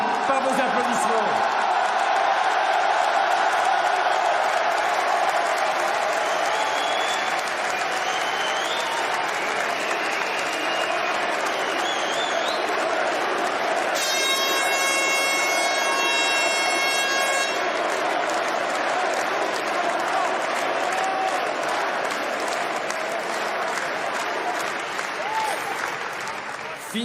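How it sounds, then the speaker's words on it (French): A large crowd at a political rally in Villepinte applauds and cheers steadily, a dense roar that fills the whole stretch at a constant level, with a brief whistle-like tone cutting through midway. "ils sont étourdis par vos applaudissements"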